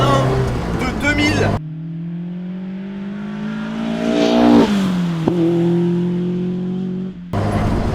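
A 2000 Lotus Exige S1 sports car engine heard from the cabin, a steady droning tone that climbs under acceleration, briefly dips at a gear change, then settles, with someone speaking before and after.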